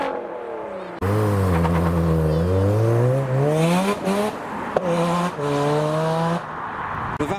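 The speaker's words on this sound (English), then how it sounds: "Next up, the Exige 410 Sport." A custom Lotus Exige 410 Sport drives past loudly, engine note rising and falling as it revs through gears, sustained for several seconds with a brief dip near the middle.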